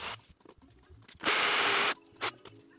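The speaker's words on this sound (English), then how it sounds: "Clamp it and drill the hole." A drill runs in one steady, loud burst of under a second, boring a hole in clamped wood, with quieter tool clicks and handling noises before and after.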